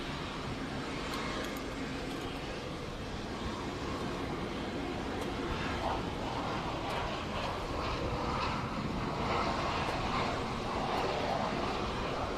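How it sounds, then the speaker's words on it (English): Saab Gripen jets arriving at an air show make a continuous broad roar of engine noise that holds steady and slightly swells, heard from a distance over open-air background. "But in come those Gripens now."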